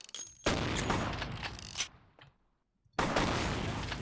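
Gunfire in the game Vampire: The Masquerade - Bloodlines, bursts of shots clustered in a loud opening volley, then a near-silent gap before another burst erupts.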